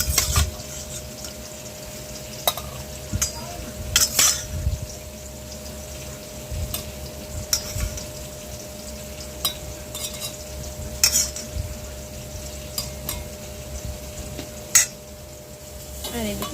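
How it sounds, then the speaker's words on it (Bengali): Pumpkin slices frying in a pan, with a steady close sizzle under repeated stirring and metal utensil scrapes and clinks against the pan. "আমি কুমড়ো ভাজাটা বসিয়ে দিয়েছি"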